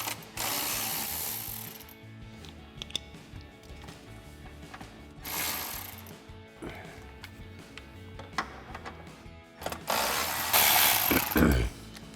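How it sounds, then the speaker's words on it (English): A hand ratchet with a 10mm socket clicks steadily while loosening bolts under the fender well of a Jeep Wrangler JK, with rapid close ratcheting runs broken by louder rushing bursts of handling noise. "remove a couple 10mm bolts using our 10mm socket on our ratchet"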